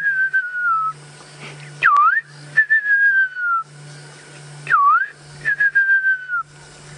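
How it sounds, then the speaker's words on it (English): A fiery-necked nightjar calls at dusk on an African safari drive: clear whistled phrases repeat twice, each a descending tremolo with a sharp swooping note, loud and close over a steady low engine hum. "And then the beautiful fiery-necked nightjar."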